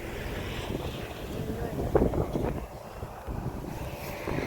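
Strong wind gusting across an open rice field during harvest, roaring and buffeting the microphone steadily throughout, with faint voices in the background.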